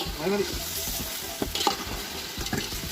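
Food frying and being stirred in a pan while cooking dum biryani, a continuous sizzle with scraping stirs, and a voice talking briefly under it.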